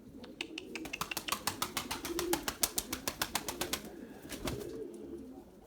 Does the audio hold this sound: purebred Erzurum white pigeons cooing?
yes